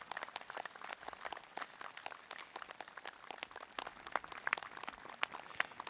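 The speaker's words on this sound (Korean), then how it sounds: "큰 박수 부탁드리겠습니다" A hall audience at a Korean meditation peace event gives scattered, fairly faint applause, with uneven individual claps heard from a distance.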